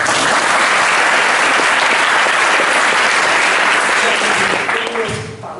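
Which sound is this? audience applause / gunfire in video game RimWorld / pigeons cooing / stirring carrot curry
audience applause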